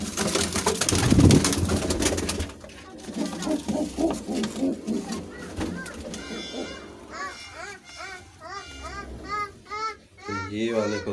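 Pet pigeons coo in soft repeated rolling calls close by, after a loud burst of rustling and flapping at the start, while someone talks over parts of it.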